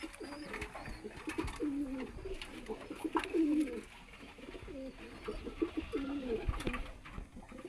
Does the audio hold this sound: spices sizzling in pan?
no